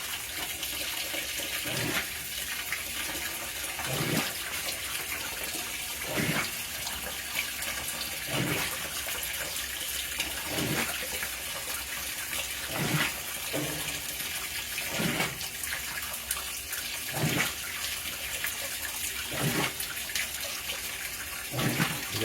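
A Whirlpool WTW4816 washer fills with hot water, a steady hissing rush of water with faint rhythmic thumps recurring every couple of seconds throughout, fairly close and without talk.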